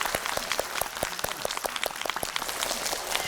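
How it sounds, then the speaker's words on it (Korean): A studio audience at a Korean talk show breaks into dense, even applause, a fast pattering wash of many hands clapping at moderate loudness with almost no speech. "이제 박수 치셔도 될 것 같습니다"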